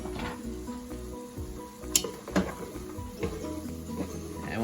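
Carrots stirred into chicken noodle soup in a pot, a low bubbling sizzle broken by a few sharp utensil clinks and scrapes against the pot, fairly close, with music underneath.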